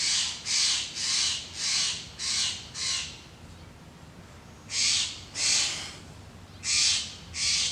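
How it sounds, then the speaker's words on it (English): Birds call in a series of about nine harsh, caw-like bursts. They come in quick runs separated by short quiet gaps, fairly near and loud against a low background hiss. "Ah, they're chasing away another bird."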